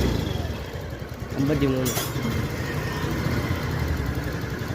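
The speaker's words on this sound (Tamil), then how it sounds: "வண்டி ஸ்டார்ட் ஆகிடுச்சு." A four-month-old motorcycle with about 530 km on it starts and settles into a steady, close idle, its low throbbing running through the whole clip while someone speaks briefly over it.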